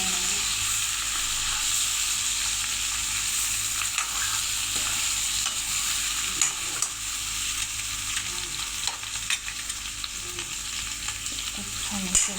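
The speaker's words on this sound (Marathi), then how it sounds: "बटाटे चांगले परतू देणार आहोत." Potatoes fry in oil with garlic and salt, producing a constant bright sizzle with occasional soft stirring scrapes, close and steady throughout.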